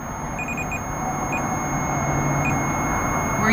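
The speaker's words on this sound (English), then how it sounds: "That beep. Yeah, that beep." A REM pod, a ghost-hunting gadget, beeps in a hotel room with short, repeated electronic tones over a steady background hiss, three or four bursts at irregular intervals and no talking.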